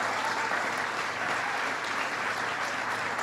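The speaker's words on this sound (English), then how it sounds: "How about a big round of applause for all the skilled craftsmen and women who make Frame USA such an" A factory crowd gives a Vice President's event at Frame USA in Springdale sustained applause, an even, continuous wash of clapping that holds at moderate loudness from start to finish without any voices.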